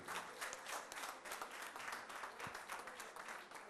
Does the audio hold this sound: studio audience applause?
yes